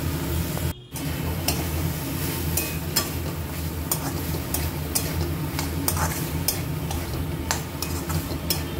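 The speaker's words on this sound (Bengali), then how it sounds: "হয়ে গেছে চিকেন মটর মশলার সঙ্গে কষিয়ে নেওয়া" Chicken pieces fry with peas and masala in a pan for chicken ghugni, with a steady sizzle under repeated scraping and clinking stirs of a spoon, close and continuous after a brief dropout near the start.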